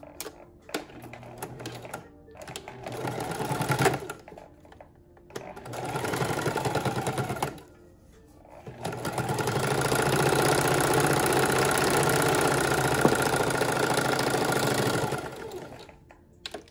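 Sewing machine stitching a fabric face mask with a filter pocket, running in several bursts of steady mechanical whirring and needle chatter separated by brief pauses, close and fairly loud.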